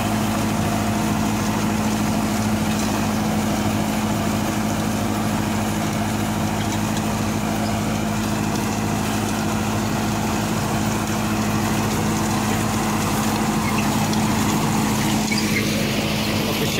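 Mahindra Arjun 655 tractor engine idling close by in a farm field, a steady low diesel hum with a constant drone that runs unbroken throughout.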